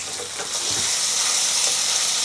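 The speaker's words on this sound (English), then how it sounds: "Nice and hot, and time to sear the beef." Beef hits a large cast iron wok on high heat and sizzles continuously, a steady bright hiss with small crackles throughout.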